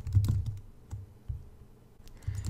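Typing on a computer keyboard while building a WordPress online store: a quiet, uneven run of soft key clicks in short bursts, with brief pauses between them.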